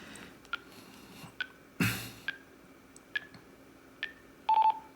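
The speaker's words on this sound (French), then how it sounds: "vous entendez, je pense, la petite alerte sonore." Short electronic beeps from a Quansheng K5 handheld radio repeating about once a second, faint, then a louder sustained timeout alert tone near the end.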